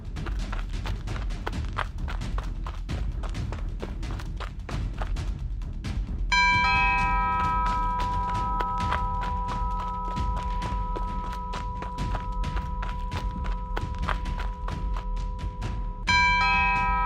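A house doorbell rings twice, a sustained electronic chime tone ringing out for several seconds after each press, over a constant background of thumps and knocks.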